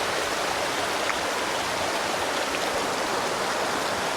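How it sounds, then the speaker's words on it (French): Mountain waterfall and stream on a hike to Lac du Lauvitel in the Oisans, Isère, a dense, steady roar of rushing water, loud and unbroken throughout. "on arrive à la cascade mère"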